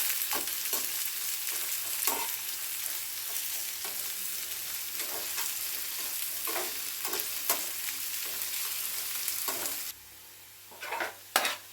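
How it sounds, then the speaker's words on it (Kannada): Onions fry in hot oil with a loud, continuous crackling sizzle, punctuated by rhythmic spatula scrapes and stirs close up, then the sizzle drops away near the end, leaving a few louder clanks; no voices. "ಗೋಲ್ಡನ್ ಬ್ರೌನ್ ಬರೋ ತನಕ ಈರುಳ್ಳಿನ ಚೆನ್ನಾಗಿ ಫ್ರೈ ಮಾಡ್ಕೊಳ್ಳೋಣ"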